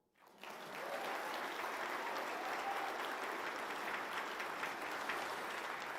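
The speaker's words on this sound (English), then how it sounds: "You may applaud." An awards ceremony audience in Chicago breaks into applause, swelling quickly into steady, sustained clapping from a large crowd that stays even to the end.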